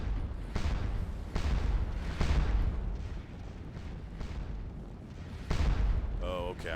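Napoleonic guard artillery firing in the battle game Scourge of War: Waterloo, a string of heavy booms rolling in the distance at irregular intervals with someone talking over them.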